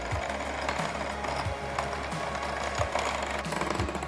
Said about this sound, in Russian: Взбивать сливки надо сначала на средней скорости, а потом постепенно ее увеличивать.